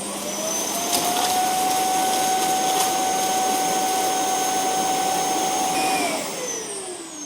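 A Roborock Q7 Max robot vacuum base auto-empties its dust bin with a loud, steady suction whine, roaring continuously for several seconds with a high tonal hum, then winding down near the end.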